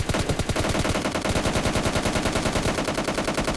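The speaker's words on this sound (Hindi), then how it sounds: "M4 से डैमेज देता हूँ" Continuous rapid automatic fire from an M4 rifle in PUBG Mobile Lite, a loud unbroken rattle of shots that lasts the whole moment with no voices.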